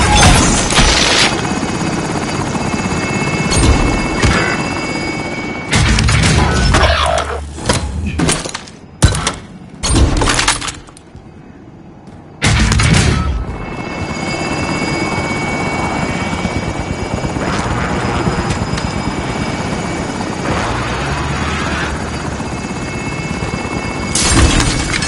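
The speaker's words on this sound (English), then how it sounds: "Helo is in position for your deposit." Rotor thump from a helicopter in a video game dominates at close range, cut by a stretch of thuds and breaking crashes and a brief drop-out, then returns to a loud, steady beating drone.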